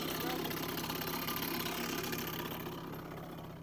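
A moped engine runs steadily while a child rides it outdoors in a village, a moderately loud idling putter that holds constant and fades slightly toward the end.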